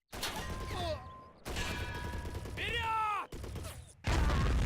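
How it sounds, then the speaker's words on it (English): Anti-tank grenade thrown at a tank in the video game Men of War, heard as a burst of loud game explosions and gunfire-like blasts with whistling, falling tones, ending in a final heavy rumbling blast. "So you pick the grenade, anti-tank grenade here."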